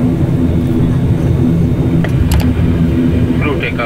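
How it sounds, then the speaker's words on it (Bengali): Fixed-wing airliner engines roaring steadily during takeoff on a flight from Kolkata to Guwahati, a loud continuous cabin drone with faint voices talking underneath. "ফ্লাইট স্টার্ট হয়ে গেছে।"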